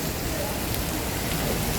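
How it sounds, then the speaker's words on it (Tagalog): Heavy rain pours steadily on surfaces, a dense, loud, unbroken hiss close by with no voices over it. "Grabe, lakas ng ulan, no?"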